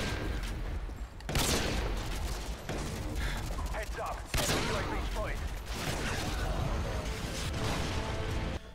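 Intervention sniper rifle shots from Call of Duty Modern Warfare 2, loud sharp reports at about 1.3 and 4.4 seconds amid dense game action and effects.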